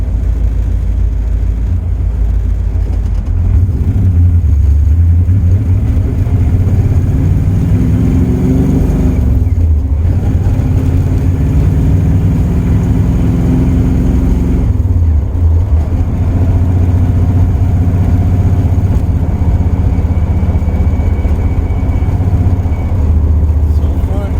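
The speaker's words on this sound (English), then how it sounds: "That 3-inch exhaust that's on here is like, just sounds nice." A 1984 Camaro Z28 with a 383 stroker engine and 3-inch exhaust idles with a deep, throaty rumble, rising in pitch through a few revs before settling back, loud and close throughout.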